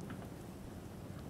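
Rain falls in the video game Skyrim, a brief, even wash of soft hiss with no distinct drops and no one talking.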